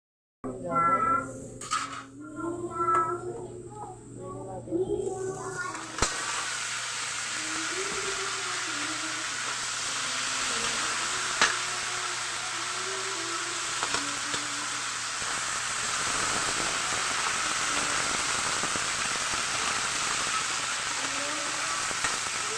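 Chopped garlic sizzles steadily in hot oil in a pan as it browns, a continuous close frying hiss with occasional stirring, while a person talks over it in a home kitchen.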